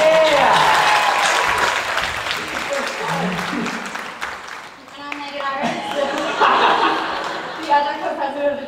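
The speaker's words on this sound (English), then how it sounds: "clap for us." Audience at a drama club's Saturday night A Chorus Line performance claps and laughs, a spread of applause with chuckles, under and between a man's speech at a microphone.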